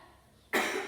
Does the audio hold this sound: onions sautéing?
no